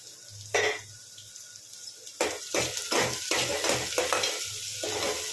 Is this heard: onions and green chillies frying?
yes